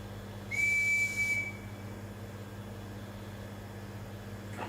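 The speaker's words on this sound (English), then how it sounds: "So the whistling is just to let other lab users know that there's going to be a loud noise shortly" A single clear whistled note, rising then held for about a second, sounds in a lab with a steady low machinery hum and hiss in the background before peening of additively manufactured Rene 41.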